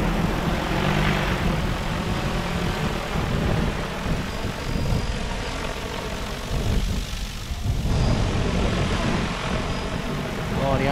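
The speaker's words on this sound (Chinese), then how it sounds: "然后飞机在这上面， 他这去了那棵树，他就喷那棵树" A DJI T20 agricultural drone flies over a durian orchard spraying the trees, its loud propeller buzz droning steadily and close throughout amid windy outdoor noise.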